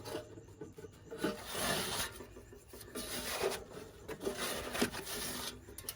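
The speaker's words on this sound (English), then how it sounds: "So we're going to drop our miner's moss in there." Miner's moss matting being dropped and pushed into the hopper of a Gold Rat highbanker, giving close, soft rubbing and scraping sounds in uneven bursts with brief pauses between.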